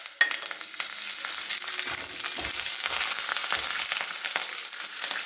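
Asafoetida, cumin seeds and curry leaves fry in hot oil for dadpe pohe, giving a loud, steady crackling sizzle throughout, with a few low stirring knocks midway, heard up close.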